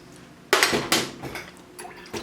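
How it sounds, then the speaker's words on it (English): A ginger soy dipping sauce with ground ginger, Sriracha and brown sugar gets stirred in a bowl, giving a few sharp clinks and wet scraping swishes at close range, with no talking. "Just going to mix this up really well."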